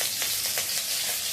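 Chopped onion sizzles in hot oil in a wok, cooked for a fish curry with cauliflower and tomato. The frying is close and continuous, with a few soft stirring scrapes and no talking.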